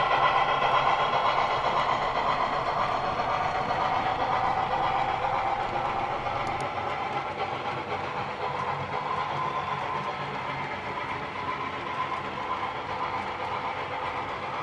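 A passing excursion train rolls by a road crossing in South Jersey at a steady distance, its continuous rumble and rail clatter holding level and easing slightly over time.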